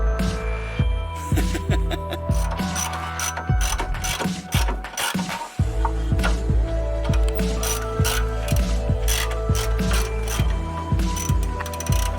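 A hand ratchet clicks rapidly and repeatedly while undoing suspension bolts on a Corolla wagon, with bursts of fast pawl clicks, brief pauses and metallic clanks throughout, close and loud.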